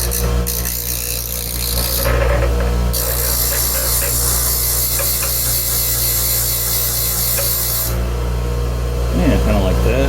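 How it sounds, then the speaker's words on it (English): Power grinder running steadily on small metal bug shield mounting parts for a 1977 Chevy C10 pickup, a continuous close whine with bright high hiss that cuts out briefly near the start and stops toward the end. "We're just going to grind a little off each one side of these."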